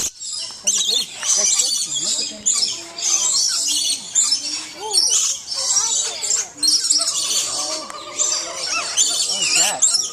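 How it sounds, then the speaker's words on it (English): Small birds squawk and chirp busily while being hand-fed, with many overlapping close calls; people talk throughout. "A bird over here."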